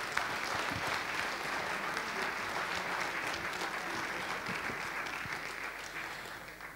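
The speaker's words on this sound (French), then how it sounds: "je pense qu'on va applaudir Michel Bogart" A lecture audience gives a speaker a sustained round of applause after a talk on the invisible, an even wash of many hands clapping at a moderate distance that stays steady and tapers slightly toward the end.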